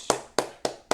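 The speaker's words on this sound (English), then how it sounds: "I gotta clap for myself on that one" Four sharp hand claps at an even, slightly slow pace, close and crisp, each with a quick decay and nothing else around them.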